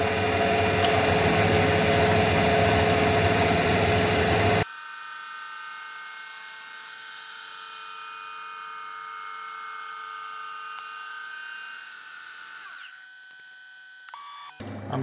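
K&T 2D rotary head mill cutting with its rotary head engaged at 1/2 RPM, a loud, dense machine roar for the first few seconds that drops to a steady, quieter whine and hum with faint clicks near the end.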